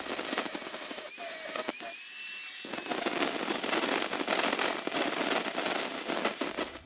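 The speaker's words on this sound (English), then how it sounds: "hit it with a flap wheel with a 60 grit on it" A 60-grit flap wheel on a grinder smooths a crankshaft for a 360 Chrysler engine, producing a continuous rough, hissing grind at close range with scratchy texture and a brief dip in the low rumble partway through.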